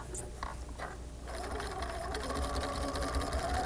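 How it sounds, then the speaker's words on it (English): A sewing machine edge-stitches layers of suede, its motor and needle running in a fast, continuous mechanical whir that starts partway through, close and steady. "I can then put this in the machine and go ahead and edge stitch this."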